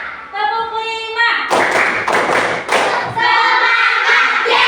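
A classroom of pupils doing a counted 'tepuk semangat' clap routine: chanting voices give way to a short burst of several loud, rhythmic hand claps, then voices resume.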